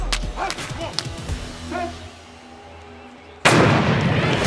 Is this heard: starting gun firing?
yes